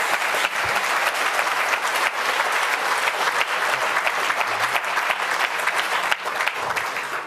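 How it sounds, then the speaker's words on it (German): A hall audience at a conference talk on radio chips in clothing breaks into loud, continuous applause, dense clapping sustained evenly for over seven seconds with no talking. "Applaus!"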